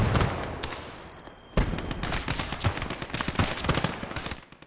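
Bursts of machine gun and rifle fire from the WW2 strategy game Gates of Hell crackle in rapid volleys, with a sudden loud onset after a quieter stretch and continuous battle noise throughout.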